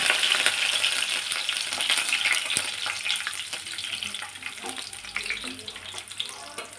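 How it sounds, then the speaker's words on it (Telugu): Curry leaves spluttering in hot oil, a loud, dense crackle of rapid pops and hissing that runs steadily throughout, close up with no talk. "ఒక రెండు మూడు రెమ్మలు తీసుకొని ఈ ఆయిల్లో కొంచెం చిటపట్లు ఆడిస్తే సరిపోతుంది"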